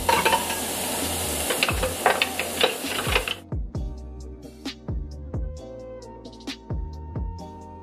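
Onion and French shallot cubes sizzle in butter in a pot for a Haitian bouillon, first as a loud steady frying hiss, then as quieter crackling with repeated clinks and scrapes of stirring.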